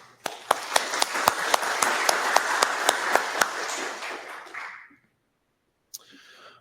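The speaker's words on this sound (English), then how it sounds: "Another round of applause." Audience at a conference short-talk session applauds steadily for about five seconds, scattered sharp claps standing out, before the clapping stops abruptly; a faint sound follows near the end.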